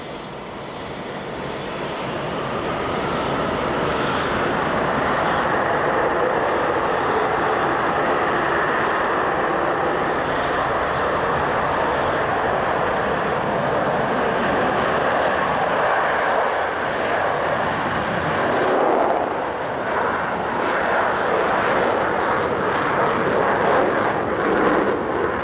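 Concorde airliner departing Glasgow at evening, its engines producing a loud, sustained roar that builds over the first few seconds and holds steady, with broad rumbling noise throughout and no voices.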